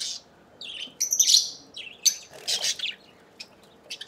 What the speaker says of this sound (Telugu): ఇది వచ్చేసి ఆఫ్రికన్ లవ్ బర్డ్స్ అంటారు.